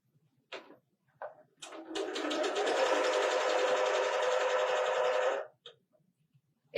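Close up, a sewing machine runs a pillowcase seam in one steady whirring stretch of about three and a half seconds. A couple of short clicks and bumps come just before it starts.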